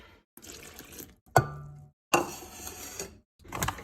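Water splashes and pours in short bursts with gaps between into a measuring cup for bread, accompanied by a clink of a cup or dish; close and moderately loud.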